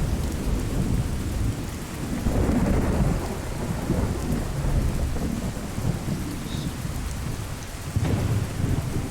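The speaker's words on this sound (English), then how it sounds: "jeez, that lightning." Fallout 4 thunderstorm with lightning: steady heavy rain with low rolling thunder swelling and fading in the background, loud and continuous.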